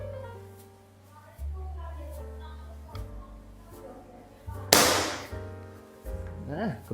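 Canon 808 air rifle test firing, with one sharp, loud shot cracking out amid a steady hum, followed by faint mechanical clicks.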